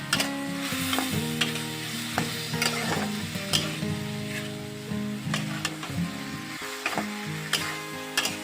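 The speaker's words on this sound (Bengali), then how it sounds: "ঝিঙেগুলো ভেজে নেবে ঝিঙে থেকে তো জল বেরোয় সেজন্য মা মিডিয়াম টু হাই আছে ঝিঙেগুলো ভেজে নেবে" Ridge gourd pieces frying over medium-high heat, releasing water into a continuous crackling sizzle close by, with regular stirring clicks and scrapes and soft tonal music running underneath, no talking.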